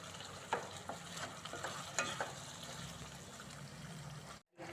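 Baby corn stirred in a hot pan with a splash of its own cooking water, a spoon scraping in soft repeated strokes over a steady low sizzle, close and fairly quiet, with a brief drop to silence near the end.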